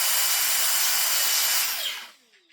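A Dyson DC35 cordless vacuum cleaner runs on a previously tested battery with a loud, steady motor whine and rushing airflow, then spins down and fades out near the end.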